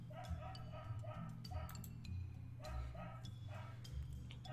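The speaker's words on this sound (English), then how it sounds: "Is that barking thing a dog?" Stray dog barking in a video game, a series of short repeated barks and yips spaced across the moment over a low ambient drone, moderately near and fairly quiet.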